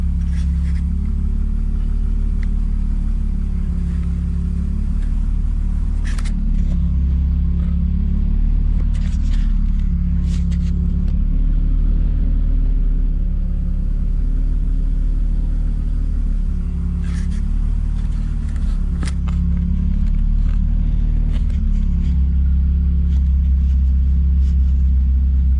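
A BMW track car engine, warmed up, runs at a steady idle with a deep continuous rumble close by, its low drone lightly pulsing for nearly half a minute without talk.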